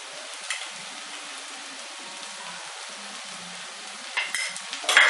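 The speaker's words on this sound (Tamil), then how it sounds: "காரப்பொடி போட்டு நல்லா சேர்த்து கிளறிட்டு" Onions frying in a pan with salt and chili powder for an onion pickle, a soft steady sizzle with faint stirring scrapes, ending in a few louder scrapes and clatters near the close, no talking.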